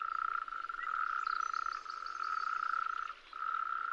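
A tree frog keeps up a close, steady, high-pitched trilling croak, broken by only a brief pause near the end, with no other sounds.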